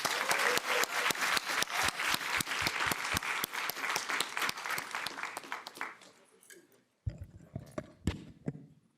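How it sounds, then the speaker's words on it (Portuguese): An audience at a talk on entrepreneurship and innovation breaks into sustained clapping that fades out, leaving a brief silence before a few scattered, louder claps pick up again. "Com a salva de palmas, recebam os três."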